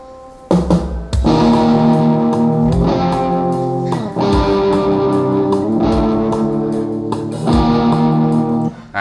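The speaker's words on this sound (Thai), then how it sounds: "เราก็ได้เสียงกีตาร์เข้าไปแล้วนะฮะ" Distorted electric guitar strums loud chords with effects, several sustained hits separated by brief gaps, played alone.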